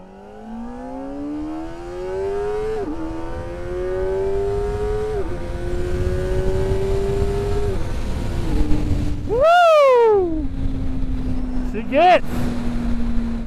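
A 2024 Kawasaki Ninja ZX-4RR motorcycle accelerates hard, its engine note climbing through several gears in a rising, stepped pattern with brief dips at each shift, loud and close, ending in sharp revving blips.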